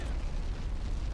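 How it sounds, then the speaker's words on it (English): A low, rumbling explosion in the video game Xenoblade Chronicles X, a dense, heavy boom that lingers briefly as a deep roar. "What was that explosion?"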